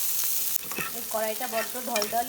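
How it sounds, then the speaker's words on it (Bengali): Onion and green chili hit hot, smoking mustard oil in a wobbly kadai, giving a loud, bright sizzle that carries on steadily while a person speaks over it. "এই তেলের মধ্যে দিয়ে দেবো পেঁয়াজ আর এই কাঁচা লঙ্কা ফোড়ন।"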